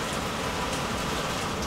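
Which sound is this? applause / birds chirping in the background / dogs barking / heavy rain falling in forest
heavy rain falling in forest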